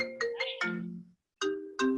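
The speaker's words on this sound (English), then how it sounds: "someone's getting a phone call" Phone ringtone for an incoming call, a short melodic chime of several tones that pauses briefly and starts again, fairly faint and alone.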